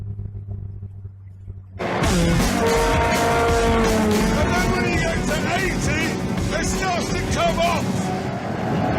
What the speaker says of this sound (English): And this car at only 70 miles per hour.